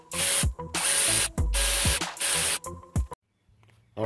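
A ratchet tightening water pump bolts on a 2002 Oldsmobile Silhouette, with several loud, close bursts of rapid clicking separated by short pauses, ending in quiet.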